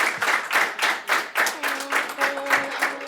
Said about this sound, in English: We can give a round of applause to Jordan for taking his time out here.